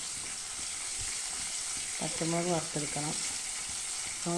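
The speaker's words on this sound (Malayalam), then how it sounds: "അതിലേക്ക് ഞാൻ പച്ചമുളക് ഒന്ന് വറുത്തെടുക്കണം." Green chillies fry in hot oil in a pan while cooking for an Onam feast, a steady loud sizzle running throughout, with a short burst of melodic voice or tone briefly rising over it midway.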